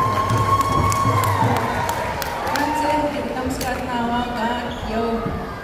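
A crowd at a round dance cheers and applauds a Juno Award-winning singer, with loud shouts and whoops over scattered clapping and a dense, lively murmur of voices.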